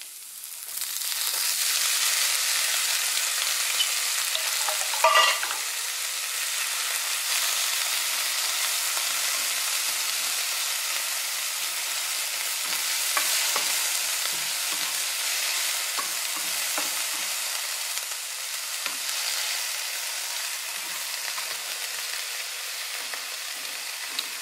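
Onions and mushrooms frying in a pan over low heat, a continuous close sizzle with light stirring clicks throughout and a brief louder scrape early on, no talk.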